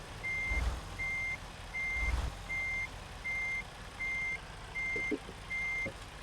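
Reversing alarm of a truck with a trailer in American Truck Simulator, a steady run of eight evenly spaced beeps over a low engine hum, with two heavier thumps early on and light clicks near the end.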